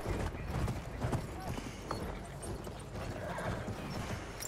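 Horse hooves clip-clopping at a gallop in a cavalry video game, a steady rapid rhythm within dense battle noise and gunfire-like clatter, with faint voices mixed in.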